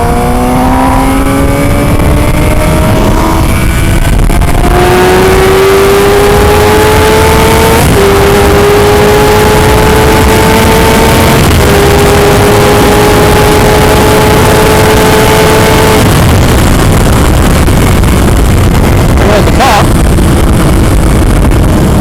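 A 2014 Suzuki GSX-R750 motorcycle engine drones steadily while riding, its pitch climbing through gear changes over constant wind rush, loud and close throughout.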